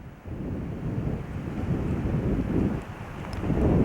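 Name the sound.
breezy wind on the Hopewell, Nova Scotia shore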